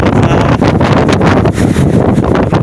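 Powerful typhoon gusts blow loudly and continuously, buffeting the microphone in a thick, rushing roar with brief surges, close and unbroken, with no voices.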